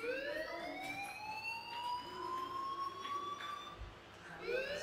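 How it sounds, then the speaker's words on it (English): Inside the Life is Strange video game, a fire alarm wails as a steady rising electronic siren tone, moderately loud and continuous with a brief dip near the end, with no talk. "do you hear that fire alarm? That means you should be outside."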